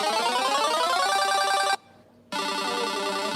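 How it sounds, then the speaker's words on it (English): A phone rings loudly and alone, a dense trilling electronic ringtone that cuts out briefly for a short gap, then resumes at full level. "Sorry, I just got a phone call."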